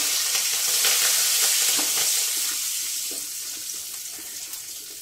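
Curry leaves fry in hot oil for a Telugu kandipappu ponnaganti kura, a loud, steady, close sizzle that eases slightly toward the end with no talking.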